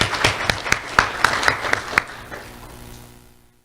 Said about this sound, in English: Let's have a round of applause for Hunter Houston.